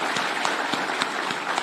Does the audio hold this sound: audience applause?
yes